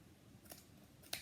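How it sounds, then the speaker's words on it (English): Scissors snip through the yarn loops of a handmade pom-pom, two quick, quiet crisp cuts about half a second apart in an otherwise hushed room. "you're going to take your scissors and cut the loops around the outside."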